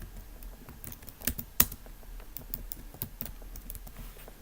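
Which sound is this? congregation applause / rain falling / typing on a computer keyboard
typing on a computer keyboard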